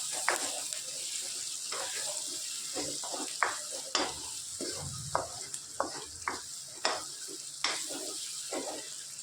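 Spices and eggplant sizzle steadily in a hot pan, with a constant frying hiss broken by repeated clicks and scrapes of stirring, close and fairly loud.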